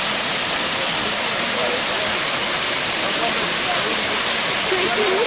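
Kurşunlu waterfall roars as a dense, steady broadband rush of falling water, loud and close and constant throughout without pause.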